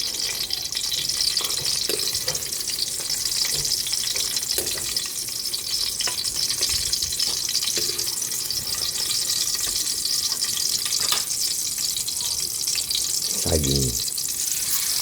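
Bananas (saging) frying in hot oil give a steady, broadband sizzle that runs the whole time, with scattered stirring clicks and a brief scraping clatter near the end; no one speaks.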